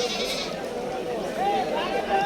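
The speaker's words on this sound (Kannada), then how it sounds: "ಬಂಡೂರು ಕುರಿ ಮರಿಗಳಿಗೆಲ್ಲ ಹಾಗೆ ಈಗ ನೋಡ್ತಾ ಇವು ನಾಲ್ಕೂವರೆ ತಿಂಗಳು ಮೇಲಾಗಿರೋವು" Young Bannur sheep lambs, about four months old, bleat at a livestock market, their rising calls rather close amid a busy crowd of people talking.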